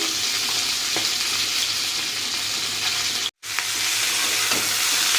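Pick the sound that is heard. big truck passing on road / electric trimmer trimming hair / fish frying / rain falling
fish frying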